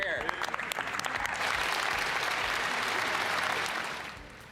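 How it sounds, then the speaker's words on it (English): Applause in the House of Commons for a celebrity in the gallery, rising as a voice speaks, then swelling into a full, sustained round of clapping that tapers off. "applause there in the House of Commons for a celebrity who was watching from the gallery."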